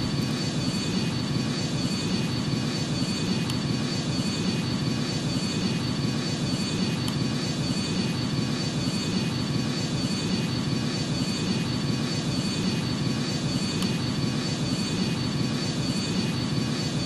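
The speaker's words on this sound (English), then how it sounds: "You can hear the throttles coming back down a bit." Airliner jet engines throttling down inside the flight simulator game Rortos Extreme Landings, a steady broadband roar holding at an even level throughout with no voices.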